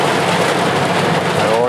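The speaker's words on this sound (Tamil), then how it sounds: "பயங்கரமாக மழை பெய்யுது." Heavy rain pours steadily during a truck ride near Kalimalai on a load run to Chennai, a dense continuous wash close around the cab with strong wind in the background.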